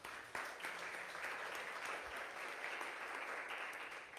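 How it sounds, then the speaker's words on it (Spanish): Congregation applause at a church service fills the space with a steady, dense wash of clapping, moderately loud, with no talk over it. "Dale un aplauso a Jesús, por favor."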